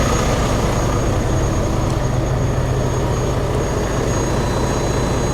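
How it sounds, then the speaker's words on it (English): A flooded 2021 Hyundai Venue engine with water inside cranks on a booster pack, a loud, steady low mechanical churning and whirring that runs unbroken for several seconds with no talking. "It's cranking. There's water in the engine."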